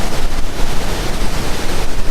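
Ocean waves break on the shore at Seixal, Madeira, a loud, continuous broadband roar of surf with strong wind buffeting the microphone.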